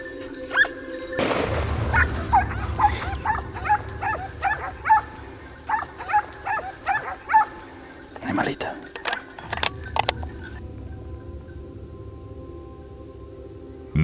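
Hunting dogs bark during a boar and deer drive hunt in open scrubland at Las Cañadas de Aroche. Repeated sharp barks come in quick bursts at moderate distance, with a few heavier thumps and bangs.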